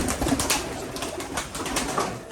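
Dobaj pigeons coo softly in a cage, a low murmuring coo close by with light rustling.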